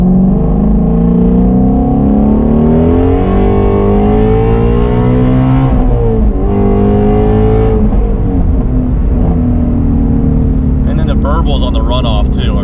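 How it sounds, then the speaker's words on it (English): A Shelby Mustang V8 blips and swells through heel-toe rev-matched downshifts during a U-turn, its revs rising and falling loudly inside the cabin while someone talks over the engine throughout. "simply doing a U-turn here, going through some downshifts, some heel-toe rev matches"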